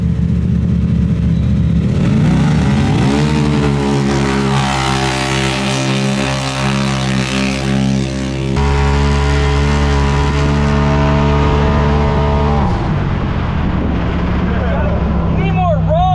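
A Stage 6 Pro Turbo XP side-by-side runs hard down a drag strip, its loud engine climbing through rising, harmonic-rich revs before cutting off abruptly near the end, with voices talking underneath.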